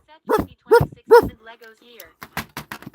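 A person's voice imitates a puppy's barking, giving a few short, yappy, pitched barks in quick succession, followed by softer, more ordinary speech sounds.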